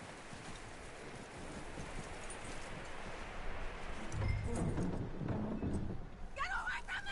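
Horse hooves clip-clop in the video game Red Dead Redemption 2, a steady mid-distance patter over an outdoor ambience that grows busier toward the end, with game voices talking over it.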